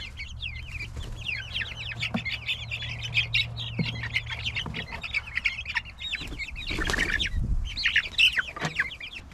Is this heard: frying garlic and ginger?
no